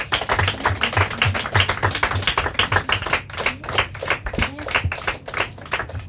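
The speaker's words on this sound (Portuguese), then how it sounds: "Palmas para elas." Audience clapping for three teachers at a Portuguese-language quiz event, rapid, lively applause from a group of hands, loud and close, with some voices faintly underneath.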